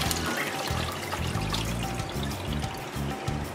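Coconut milk pours and trickles through a strainer while traditional coconut oil is being made, a steady liquid dribble heard up close and fairly loud throughout.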